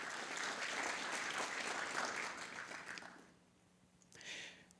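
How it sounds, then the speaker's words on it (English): Audience at a national panel discussion on equal justice applauds attorney Benjamin Crump, a dense, sustained round of clapping that fades out, followed by a brief second burst near the end. "if we can give Attorney Crump a round of applause"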